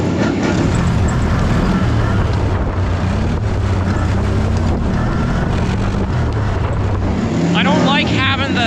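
A CFMOTO ATV rides a trail with a steady, loud engine drone and heavy wind buffeting throughout, while a person talks over it and a rattle breaks in near the end.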